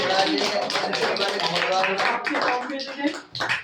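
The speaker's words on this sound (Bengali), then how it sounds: "ওদের জন্য একটা হাততালি" Audience applause for the winners at a Bengali theatre gathering in Naihati: a dense, steady patter of many hands clapping for nearly four seconds, mixed with voices and dipping briefly near the end.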